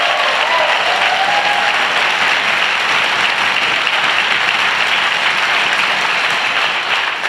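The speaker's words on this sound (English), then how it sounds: "Could we have a round of applause for them?" A crowd at a Democratic political rally in Acton applauds steadily and loudly, a dense, continuous wash of clapping from many hands that holds its level throughout.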